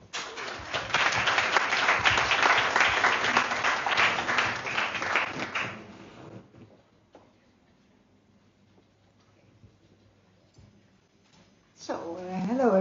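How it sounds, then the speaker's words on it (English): Warm audience applause for a speaker at a talk event, a full burst of clapping for about six seconds that quickly dies away into near silence before a voice starts speaking. "Please give her a warm applause"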